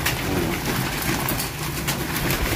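Racing pigeons coo steadily as they are fed a breeder seed mix, soft throaty calls repeating close by over a constant hum of background noise with no talk.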